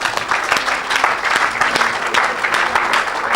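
Church congregation applauding and cheering in praise of the Lord at a French-language worship service, a steady dense wash of clapping and crowd noise filling the whole moment with a faint voice underneath.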